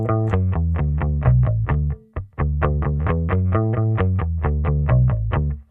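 Bass guitar, picked with a pick and run through a cabinet impulse response, plays a driving run of evenly spaced, punchy eighth notes with a slight grit, pausing briefly midway before resuming.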